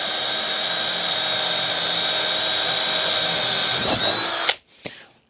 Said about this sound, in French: le perçage avec une planche de médium de 18 mm d'épaisseur, donc j'ai un forêt de 10 mm